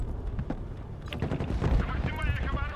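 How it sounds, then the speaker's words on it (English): Explosions and rapid gunfire rumble continuously through a Broken Arrow video game battle, dense distant bursts and blasts overlapping with no pause, with a voice speaking over the din. "throughout the entire map right now you can hear explosions going all over the place"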